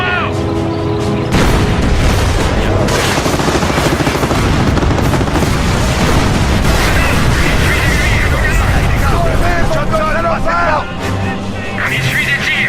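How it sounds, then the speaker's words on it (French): Gunfire and explosions in the Company of Heroes war video game: loud, dense bursts of machine-gun fire and heavy booms run almost continuously, with voices calling out over the battle. "On essuie des tirs."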